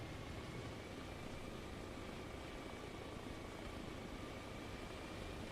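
A helicopter in the video game Arma Reforger gives off a steady, muffled rotor drone, faint and unchanging throughout with no voices over it.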